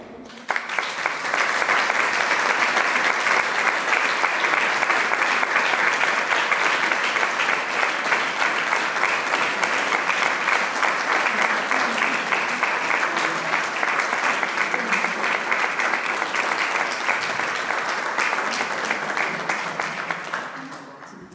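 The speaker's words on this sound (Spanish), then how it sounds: "Vamos a recibirla con un caluroso aplauso." Sustained applause from a large audience, a dense steady roar of clapping that holds for about twenty seconds before tapering slightly.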